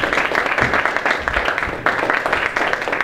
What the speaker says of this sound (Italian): e fare un applauso per il nostro ospite